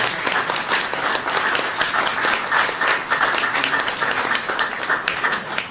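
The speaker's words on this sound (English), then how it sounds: "give yourselves a round of applause" Guests at a White House reception for Asian American and Pacific Islander Heritage Month applaud, a dense, loud wash of clapping that holds steady for several seconds.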